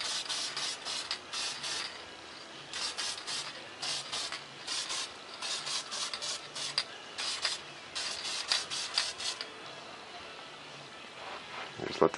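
A Testers spray paint can hisses in repeated short bursts of light coats over a small model stealth jet, close and fairly soft, with brief pauses between sprays.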